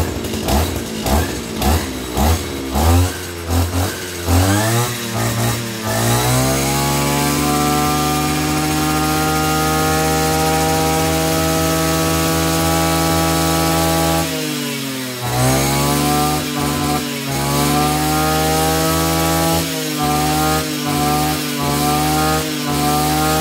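A Zenoah Komatsu G3K 34cc brush cutter engine revs in sharp bursts, then holds a loud high-pitched whine for several seconds, drops, and revs hard again, close and piercing.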